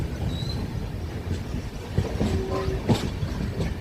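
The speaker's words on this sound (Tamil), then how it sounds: "நம்ம செகந்திராபாத் ஜங்ஷன்லேருந்து ஹைதராபாத் ஜங்ஷன் போயிட்டுருக்கோம்." Steady low rumble of a passenger train riding between Secunderabad and Hyderabad junctions in India, with a faint clatter of wheels and a couple of brief metallic squeals near the end, no talk.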